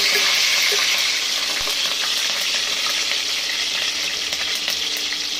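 Curry leaves hit hot oil in a kadhai through a strainer, giving a loud, dense, continuous crackling sizzle that holds steady throughout.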